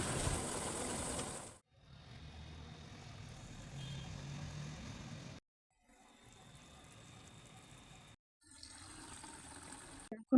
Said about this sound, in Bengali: তো এখন আমি গাছগুলোতে সব জল দিয়ে নিচ্ছি।